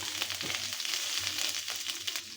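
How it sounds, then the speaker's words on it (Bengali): Spicy desi chanda fish fry in a pan with a soft, steady sizzle and crackle, fairly quiet and close, with a few light scraping touches along the way. "ঝাল ঝাল মাছ ভাজা এরকম করে মাছ আপনারা অবশ্যই একদিন ট্রাই করে দেখবেন"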